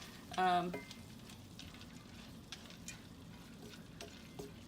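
Sausage meat sizzling and frying in a pan, a soft steady crackle with occasional stirring clinks and a brief louder scrape near the start.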